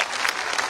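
Brief burst of audience applause at a Kshatriya community gathering in Jamnagar, a dense, steady clapping from a crowd lasting under a second.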